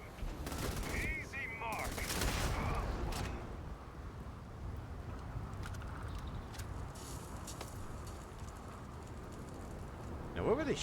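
Gunfire in Starfield, bursts of rapid shots crackling in the first few seconds, then sparser distant pops and clatter over a low rumble, with a sharp burst near the end.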